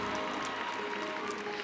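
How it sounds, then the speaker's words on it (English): A pageant audience at the Miss South Africa 2024 finale claps in applause, a steady, fairly distant patter of many hands with some faint crowd noise. "That deserves a round of applause."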